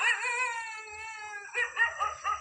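A dog howls close by, one long drawn-out tonal wail that breaks into shorter wavering cries toward the end.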